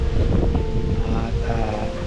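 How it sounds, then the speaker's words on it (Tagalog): Strong wind roars and buffets the microphone in a constant low rumble on a quiet rural mini farm, with a voice faintly underneath. "Talagang malakas ang hangin."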